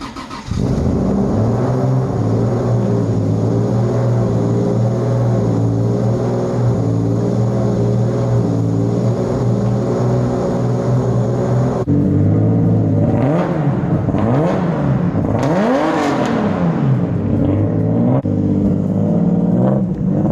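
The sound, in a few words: 2JZ-swapped FRS car driving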